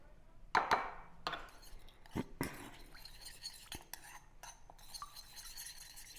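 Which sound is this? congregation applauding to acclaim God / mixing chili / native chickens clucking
mixing chili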